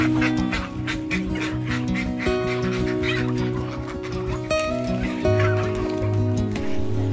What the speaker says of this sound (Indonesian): Pagi ini mau kasih ayam makan.